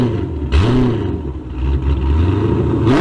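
A Hemi V8 fitted with long tube headers and a Hellcat catback exhaust revving hard, a loud, close, rumbling engine with quick rises and falls in pitch over a few seconds.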